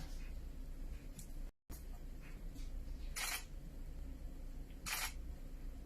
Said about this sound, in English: I'm barely even pressing the shutter button.